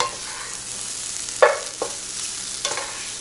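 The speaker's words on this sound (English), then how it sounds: "And then you're mixing with your ketchup." Fried rice mixed with ketchup is stirred in a hot pan, giving a steady close sizzle with a few louder scrapes and clacks of the utensil against the pan, and no voices.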